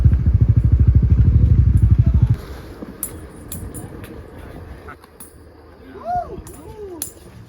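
A motorbike on the Ha Giang Loop in northern Vietnam: a loud, close engine drone for about two seconds, then cutting out to quieter roadside ambience with faint chirps.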